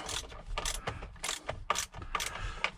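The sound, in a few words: tightening bolts on Jeep Wrangler clock spring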